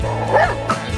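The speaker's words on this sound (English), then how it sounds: "Just a harmless little dog" A small dog met while trick-or-treating on Halloween gives a quick pair of close, high yipping barks with a slight whine.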